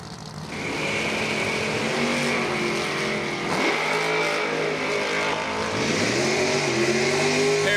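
A 1971 Vega Wagon and a 1988 Camaro launching side by side at a drag strip, engines roaring loud and close, rising through gear changes with revving sweeps toward the end.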